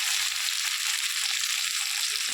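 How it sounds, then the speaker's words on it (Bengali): Chopped tomato frying with onion in a pan for a small bata fish curry, a steady, close sizzle with soft stirring, continuous and even throughout. "এবার আমি টমেটোটা এর মধ্যে দিয়ে দেব দিয়ে একটু নাড়াচড়া করে একটু হালকা একটু ভেজে দেবো টমেটোটা পেঁয়াজের সঙ্গে"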